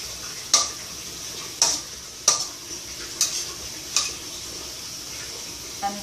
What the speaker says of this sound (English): So I have now to mix all like this, all the mushrooms